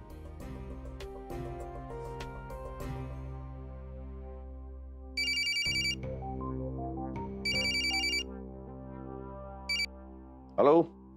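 A phone rings for a call home in a Marathi TV serial scene: a bright electronic ringtone plays in repeated bursts over soft background music, with short pauses between rings.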